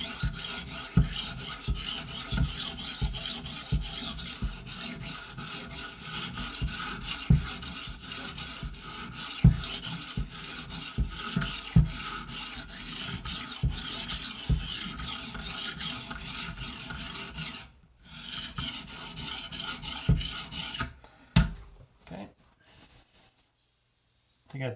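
A serrated knife is rubbed back and forth across a coarse 250 grit sharpening stone, a close, steady rasping scrape in repeated strokes that pauses briefly and then stops near the end.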